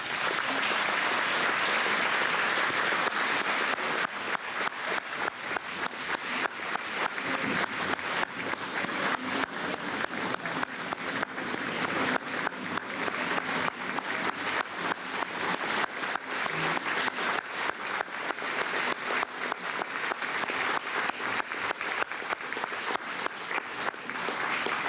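An audience claps steadily for an award recipient at a chamber of commerce event, with dense, sustained applause that fills the room, holds at an even level and carries on without any talk.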